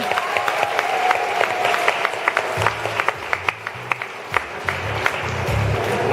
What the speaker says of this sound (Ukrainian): Гучними аплодисментами.